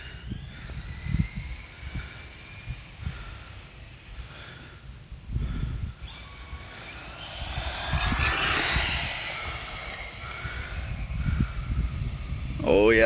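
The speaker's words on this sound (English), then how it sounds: "Oh yeah, that's full throttle." An MST XXX-R brushless RC car runs at full throttle, its motor rising to a loud, high whine that swells and fades as it passes, with rumbling and knocking from the ground throughout.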